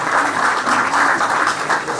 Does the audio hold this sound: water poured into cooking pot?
no